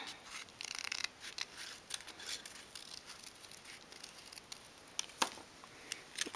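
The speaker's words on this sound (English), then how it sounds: "So what you need to do is just lightly cut the petals" Scissors lightly snipping paper flower petals in a craft project, giving soft, close, irregular cuts and crisp paper rustles at low volume without talk.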